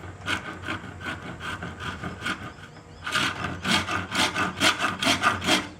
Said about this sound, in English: I'm going to go old school, using rasp files to shape this